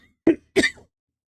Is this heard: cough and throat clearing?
yes